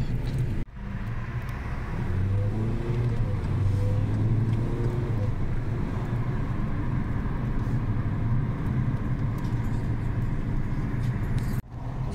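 Steady low rumble of road and engine noise inside a car driving home through the city in the evening, continuous and fairly loud with no talk.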